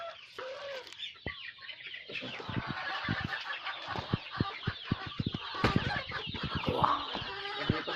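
Sick, lethargic chickens on a poultry farm cluck and chatter continuously as a flock, close and moderately loud, with scattered sharper calls and no talking.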